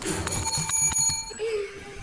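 A front desk bell rings in a hotel with a quick series of bright metallic dings and lingering tones, mixed with talking voices, then fades under further speech.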